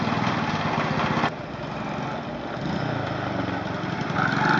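A Honda C90 motorcycle engine idles just after a kick start, a small single-cylinder chugging steadily and fairly close, with a slight dip in level partway through.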